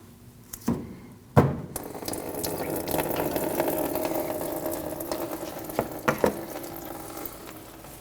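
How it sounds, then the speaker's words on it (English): Coolant draining from the radiator petcock of a 2012-2021 Nissan NV2500 5.6L V8 into a bucket, a steady trickling splash running continuously after a couple of sharp knocks near the start. "Fluid will come out the bottom, so make sure you have a bucket underneath to catch the fluid."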